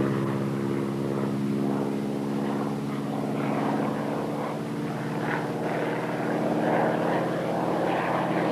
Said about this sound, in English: That plane's dusting crops where there ain't no crops.